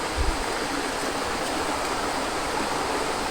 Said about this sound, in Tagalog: ito yung dagat talaga nito malaki